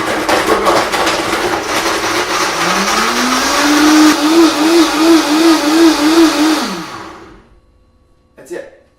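Blender frothing hot chocolate with almond milk, starting on low, whirs loudly and rises to a steady pulsing high speed before spinning down and stopping, with a brief clatter at the end and a single spoken word over it.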